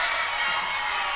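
Crowd in a gym cheering and shouting during a girls volleyball match, a brief, steady wash of voices at moderate distance.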